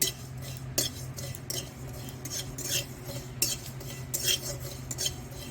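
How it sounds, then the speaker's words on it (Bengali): Cumin seeds are stirred and fried in a pan while a banana flower chop is being made. A spatula scrapes and taps the metal again and again at an uneven pace, moderately close, with steady low background noise and no talk. "এখন জিরে ভাজা চলছে"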